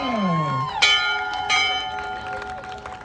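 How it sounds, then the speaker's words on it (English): A bell rung at a Class of 2023 college-acceptance ceremony gives two bright, ringing strikes that linger over a cheering, applauding crowd, with voices shouting in the background. "ring that bell!"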